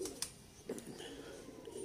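Lal Pari pigeons coo softly and low in a loft, with a couple of faint bird calls and a brief voice in the background.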